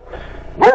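A dog gives a single loud, close bark at the end of a short stretch of low background rumble, during an off-road outing on a Honda Forza 2023 scooter.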